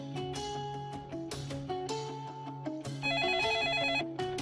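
A telephone ringing with an electronic melodic ringtone that repeats short stepped tones, growing brighter and busier toward the end, heard clearly with no talking.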